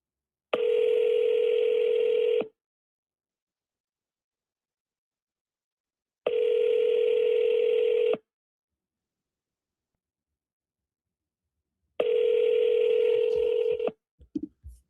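A telephone tone sounds three times during a call, each steady beep lasting about two seconds with long silent gaps between, followed by a few faint clicks.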